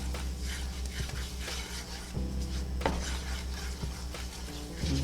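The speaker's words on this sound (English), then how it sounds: "Stir this around." Aromatics with garlic are stirred in a pan for a spicy shrimp dish, giving close scraping and rubbing strokes over a low steady hum, with a few soft knocks against the pan.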